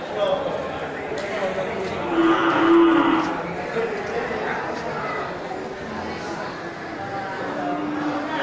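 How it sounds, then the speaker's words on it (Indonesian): Indian water buffalo low and moo in a noisy outdoor livestock market in Aceh, deep calls rising over steady background chatter and commotion. "semarak suasana diisi oleh beberapa ekor kerbau India"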